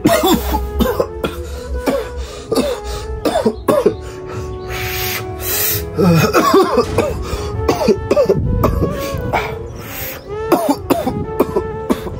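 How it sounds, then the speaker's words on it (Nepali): Repeated coughing fits and throat clearing up close while smoking, coming in harsh bursts with short pauses between them. "मैले तान्दा चाहिँ किन खोकी लाग्यो"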